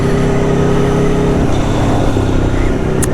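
An Aprilia Tuono V4 1100 Factory motorcycle's V4 engine running loud and close, a dense steady roar with a throbbing low drone that holds throughout, with no talking.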